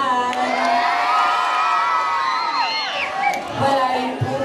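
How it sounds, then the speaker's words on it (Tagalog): A pageant crowd at a gay beauty contest cheers and shouts, with high whoops and squeals rising over a dense roar of voices, loud and continuous. "Wala po bang hiyawan dyan?"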